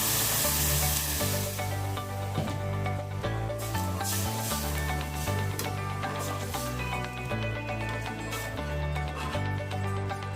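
Water is poured into a hot frying pan during home cooking, giving a continuous hissing sizzle that sits under louder steady background music throughout.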